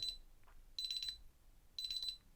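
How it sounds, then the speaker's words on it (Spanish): A DSC alarm panel beeps during its arming exit delay, sounding three bursts of rapid high-pitched beeps about a second apart, moderately loud and clear over a quiet room. "ya son los últimos 10 segundos que pita así"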